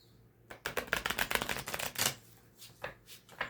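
Tarot cards from a stained glass deck are shuffled close up in a rapid riffling burst, followed by a few softer taps and slides as the deck settles.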